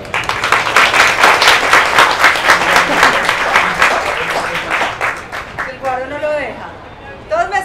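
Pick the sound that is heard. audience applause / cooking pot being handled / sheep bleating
audience applause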